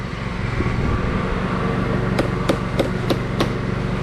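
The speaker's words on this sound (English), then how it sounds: "Belt sander breaks, you hit it with a hammer" Five sharp metallic hammer strikes on a broken belt sander in an irregular rhythm over a steady mechanical hum, close and fairly loud.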